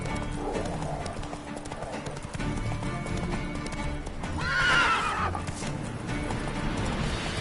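Roach, a horse in The Witcher 3 game, galloping with rapid clip-clop hoofbeats before letting out a loud, clear neigh near the middle, with faint game ambience around it.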